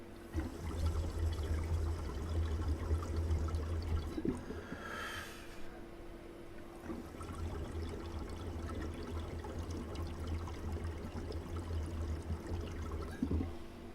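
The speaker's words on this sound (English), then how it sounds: "you can see everything bubbling so much better now" Water bubbles and gurgles continuously over a low steady hum, with a brief rushing surge partway through and no talking.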